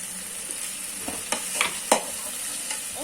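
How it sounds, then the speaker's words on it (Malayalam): Food being stirred in a pot over the stove, soft scattered scrapes and clinks of a spoon against the vessel over a low background hiss, with no voices. "നമ്മളിത് ഇളക്കിക്കൊണ്ടിരിക്കുകയാണ്"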